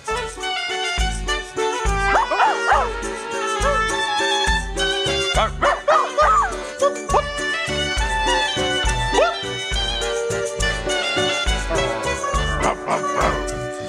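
A greyhound barking and yipping in short, pitched bursts, some with whining, rising-and-falling tones, set over a rhythmic musical backing throughout.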